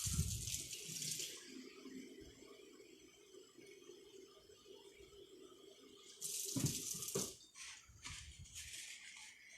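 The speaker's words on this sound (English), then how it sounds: "And I'm going to fill the rest with water." Tap water runs into a container mixed with Thieves soap cleaner, in two close, loud bursts of flow separated by a quieter stretch of trickling and handling noise.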